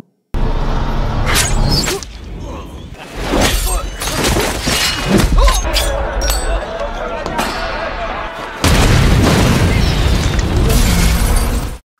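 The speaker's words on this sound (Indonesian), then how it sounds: "Akibat ledakan tadi" A loud, chaotic sequence of booms and shattering crashes, with debris and rumbling filling the space between blasts.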